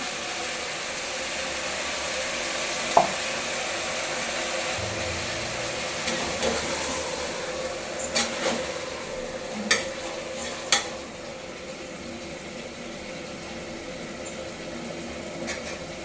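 Masala spices go into a hot pan for pulao, bringing a steady sizzle and hiss that lasts throughout, with a few faint metallic clinks and scrapes of stirring and no talking.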